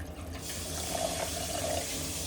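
Water trickles into a grinder jar of whole ginger being made into paste, a faint, steady pour heard close up for a couple of seconds.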